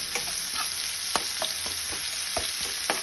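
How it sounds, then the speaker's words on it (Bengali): Oil sizzles and crackles steadily as bitter gourd fries in a pan, with a few sharper stirring scrapes and pops standing out over the constant hiss. "এটা এবার লাল করে ভেজে নেব"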